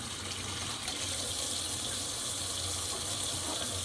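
Water pouring steadily into a broccoli casserole dish, a continuous close gush like a running tap filling the dish, with no talking.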